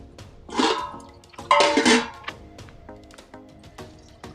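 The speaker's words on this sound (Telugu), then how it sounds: "ఆలుగడ్డ ముక్కలు మునిగేదాకా వాటర్ పోసుకుంటున్నాను ఫ్రెండ్స్" Water being poured over potato pieces in a pressure cooker for aloo tomato curry, heard as two short splashing pours with some light metallic clinks between them, close by.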